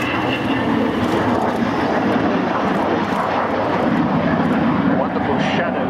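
A loud, steady Avro Vulcan jet bomber roar holds throughout as it flies over an airfield, a broad rumbling drone with a voice speaking faintly beneath it.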